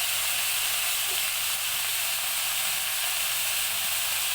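Fish curry of tilapia and bura fish with shola kochu, potato and bitter gourd sizzles steadily in oil as it is stirred in the pan, a continuous close broadband hiss with no talking.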